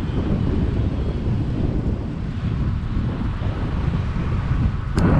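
Strong wind roars across the microphone during a bike ride along a suburban road, a loud, steady rumbling buffet that lasts throughout with no talk.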